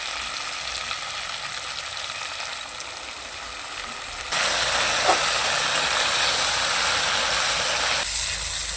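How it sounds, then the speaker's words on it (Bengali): Spice paste with tomato and a splash of spiced water sizzles steadily in a hot oily pan, a constant close hiss that grows louder and brighter partway through. "টমেটো দেওয়ার পরে মশলাটাকে এখন ভালো করে কষিয়ে নেব"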